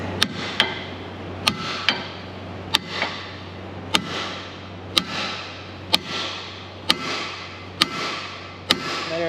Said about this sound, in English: Give her a tappy there, Kevin.